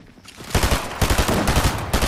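Gunfire in a PS5 video game comes in rapid, dense bursts of loud, close shots crackling in quick succession, with short pauses between volleys.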